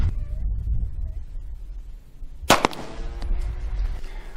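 A single sharp 9mm gunshot is fired at a transparent NIJ IIIA ballistic shield, one loud crack with a short ringing tail after a quiet stretch of low background noise.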